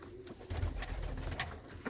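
Pigeons coo in a breeding setup kept through cold weather, a low throaty burbling repeated close by with no voices.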